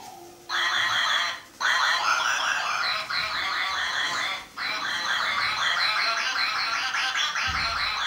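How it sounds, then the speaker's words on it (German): A large duck back from foraging chatters and quacks in a long run of rapid, rasping calls, loud and close, with only brief pauses. "Die große Ente kam wieder zurück vom Futtersuchen und man hörte sie schon schnattern."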